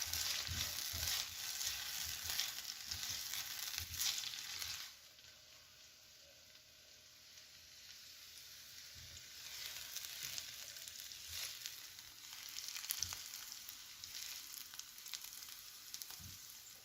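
Onions frying and sizzling in a pan as they caramelize, a steady close crackle with occasional stirring clatters, softer in the middle.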